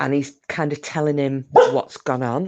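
A pet dog barks a few times close by, its yaps mixed into and partly masked by someone talking steadily indoors.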